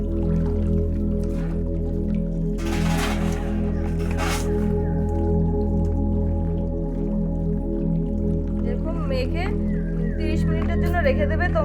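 Hands mix chicken meat with lemon juice in a bowl, giving steady wet squishing and squelching throughout, close and fairly loud over a constant background hum, with a few brief sharper bursts.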